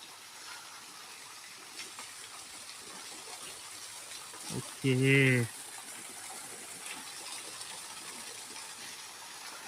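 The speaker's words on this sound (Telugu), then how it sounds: "రూట్ వాటర్ ఫాల్ అంటే ఇదా?" A living root waterfall in Cherrapunji, Meghalaya, gives a steady, faint rushing wash throughout. A brief spoken word briefly rises above it midway.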